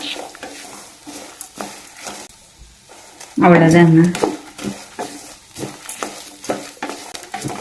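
Ginger and garlic sautéing in a pan for a ridge gourd curry: a spoon stirs and scrapes repeatedly against the pan over a soft sizzle, while someone speaks briefly over the cooking.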